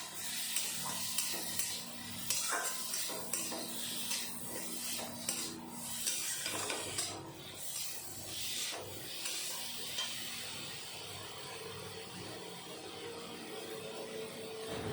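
Small fish cooked with sour fruit and sugar fry in a pan as a spoon stirs and scrapes, giving an ongoing soft sizzle under irregular clinks and rubbing strokes at close range, without speech.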